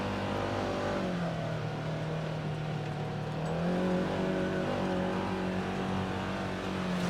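An off-road vehicle climbs Hatfield McCoy Trail 10 near Williamson, West Virginia, its engine droning steadily and loudly up close, with a rising tone partway through as it pulls uphill.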